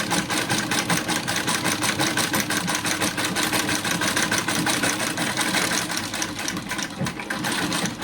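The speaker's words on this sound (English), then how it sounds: "I always run through one stitch to make sure everything's good down there" A Davis Vertical Feed sewing machine stitches continuously at close range, giving a loud, fast, steady mechanical chatter with a rapid even rhythm throughout, and no talking over it.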